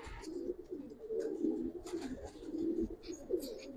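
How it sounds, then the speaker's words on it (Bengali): Giribaz pigeons at a home loft give low rolling coos with short calling bursts over steady background noise, moderately close and continuous. "এই যে আমার বাসার উড়তি কবুতর দেখেন"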